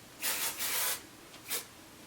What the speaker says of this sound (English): I just give my hair a little spray